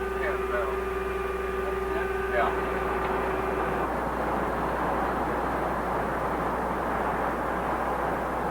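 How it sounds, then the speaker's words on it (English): A quiet jet engine built with noise-reduction technology runs as a steady, even roar, with a thin tonal whine that fades out partway through. "This engine demonstrates the noise reduction technology for jet engines of the future."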